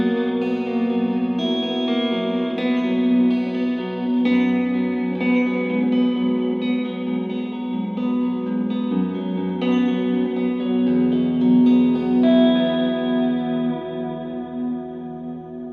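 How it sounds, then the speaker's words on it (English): Electric guitar played through an MXR M300 reverb pedal set for a big, washy, all-purpose worship sound: sustained chords and ringing single notes blur into a long shimmering tail, steady and fairly loud with no talking. "the MXR M300, I have it set up for just a big washy, sort of all-purpose reverb"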